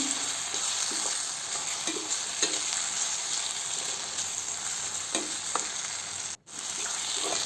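Tomato masala mixture with garam masala being stirred in a frying pan for tomato pulihora, a steady sizzle with repeated scraping strokes, close and alone, broken by a brief cut near the end.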